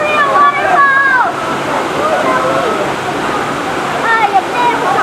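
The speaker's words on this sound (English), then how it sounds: "this is a real waterfall!" A real waterfall in Quezon, Philippines roars loudly and continuously up close, with excited voices calling out over the rushing water at the start and again near the end.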